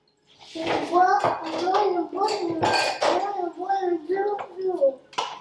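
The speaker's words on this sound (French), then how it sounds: "Je range un peu les assiettes." Plates clink and clatter as dishes are stacked and put away near a dishwasher, fairly close and mixed under someone talking.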